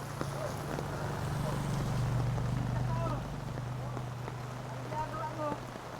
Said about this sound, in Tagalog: Napaka ano ng ulan.